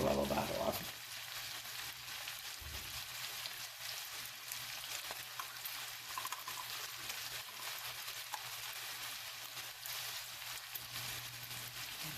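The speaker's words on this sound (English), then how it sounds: "I'm going to stir that. I'm going to cook this down, and then we will add the apples." Margarine sizzles quietly in a pan while being stirred, making a soft steady crackle with light scraping after a brief louder start.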